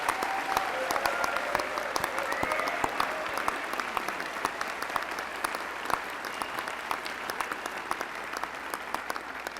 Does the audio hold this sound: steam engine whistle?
no